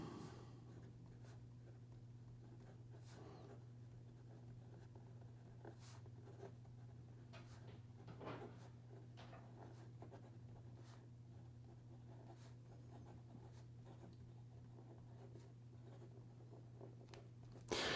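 A Laban Gloria fountain pen with a broad nib scratches faintly across paper in soft, irregular strokes, close up over a low steady hum, with no talking.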